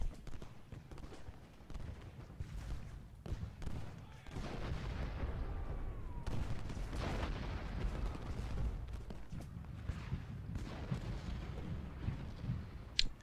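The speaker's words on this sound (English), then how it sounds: "we are getting quite a bit of artillery fire from all flanks." Artillery fire in the Ultimate General: Gettysburg battle game, with dull booms and rumbling low-end blasts repeating over a dense, continuous battlefield din for several seconds, alongside clattering hoof-like sounds.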